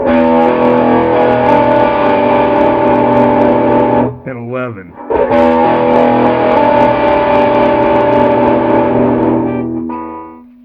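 A loud, heavily distorted electric guitar chord rings out with a fuzzy, saturated tone, broken by a brief choppy gap, then sustains and fades; a voice speaks briefly.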